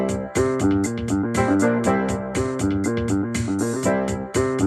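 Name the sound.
keyboard drums bass accompaniment playback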